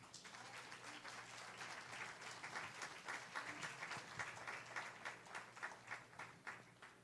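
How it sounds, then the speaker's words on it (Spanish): A church congregation applauds, the clapping faint and somewhat distant, building into a dense patter and then settling into a rhythmic, evenly spaced beat of claps. "Dale un aplauso al Señor"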